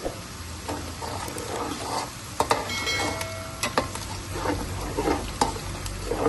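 Onions fry in a hot pan with a constant sizzle, punctuated by scraping stirs and clinks of a spoon against the metal.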